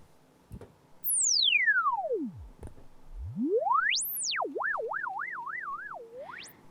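A pure synth whistle swoops steeply down, then climbs back up and wobbles in a fast vibrato before shooting upward, clean and without noise.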